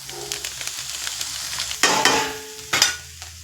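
Chopped cabbage stir-fried with chowmein masala for noodles, a steady sizzle with two louder bursts of frying and stirring toward the end.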